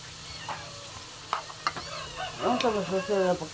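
Chicken frying in a pan with a soft, steady sizzle and a few clinks of stirring; the cooking sounds sit beneath a voice and a high, cat-like call near the end.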